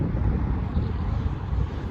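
Strong wind at a large gravel pit lake buffets the microphone with a heavy, rumbling low roar, steady and close, with no voices.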